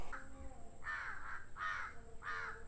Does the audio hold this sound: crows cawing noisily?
yes